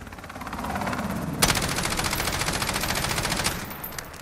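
A CTAR-21 SBR rifle in Call of Duty Modern Warfare fires one long sustained automatic burst, a loud rapid unbroken stream of shots that stops abruptly near the end.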